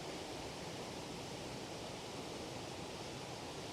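Shogomoc Falls, a waterfall, makes a steady, unbroken broadband rush of falling water, fairly soft and constant without any variation or voices.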